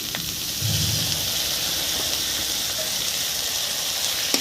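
Green chilies and onion frying in hot oil, a continuous loud sizzling hiss that holds steady throughout with a brief low clatter near the start.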